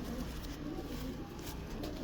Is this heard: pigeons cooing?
yes